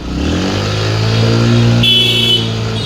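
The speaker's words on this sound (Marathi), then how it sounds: "ही आमची बाईक प्लॅटिन आहे थोडीशी खराब आहे पण चांगली आहे" A Bajaj Platina motorcycle in slightly worn condition rides through traffic, its engine humming steadily and loudly up close for a few seconds, with no one talking.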